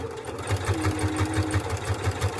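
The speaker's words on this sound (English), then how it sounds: "I am just gonna sew them together just like this because I'm binding" A sewing machine fitted with a walking foot stitches vinyl binding on a small circle bag keychain, giving a fast, even run of close mechanical thumps with a faint motor hum beneath.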